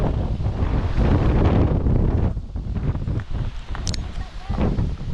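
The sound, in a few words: strong wind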